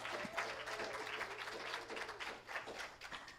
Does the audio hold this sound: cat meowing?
no